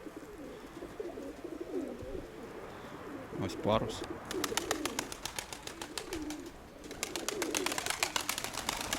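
Pigeons coo softly amid a steady outdoor background, with a rapid fluttering of wings; someone speaks briefly in the middle.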